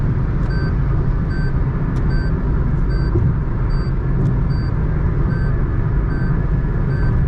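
Steady cabin noise inside a Toyota Taisor with automatic transmission cruising on a highway near 2600 RPM: constant low road and engine rumble with a dense wind hiss, loud and unchanging, plus faint regular tonal chirps, with no voices.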